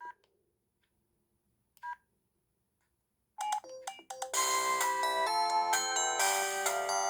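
A Daewoo DW-613 mobile phone (also sold as Maxon MX-6883/T688) plays its shutdown tone: a few faint short beeps, then after a pause a loud, bright electronic melody of several sustained notes up close.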